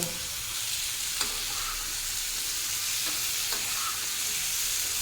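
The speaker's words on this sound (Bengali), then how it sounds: "এটাকেও এখন নাড়িয়ে ভাজবো বা তার আগে ফ্লেমটাকে হাইয়ে করে দেব" Tomato pieces fry on high flame, a continuous hissing sizzle with a few faint scraping knocks from stirring, steady and close.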